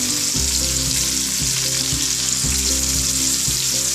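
Onions sizzle steadily in a hot pan for a Punjabi stuffed eggplant (bharva baingan) dish, with dense continuous frying crackle and a few soft stirring knocks at regular intervals, close and fairly loud with no voices.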